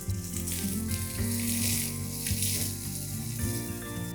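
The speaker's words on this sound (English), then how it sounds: "Fry these ingredients till the onions are nice and brown in color." Onions and spices frying in a pan with a pinch of hing, a soft steady sizzle heard close up beneath a background hum, with no talking.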